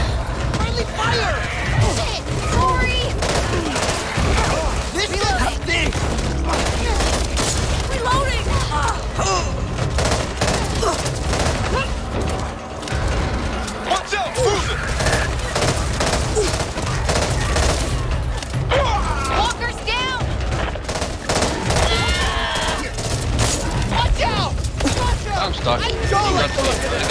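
Dense, continuous gunfire in the co-op zombie shooter Back 4 Blood, bursts and volleys running throughout with crashes and a player's voice over the top.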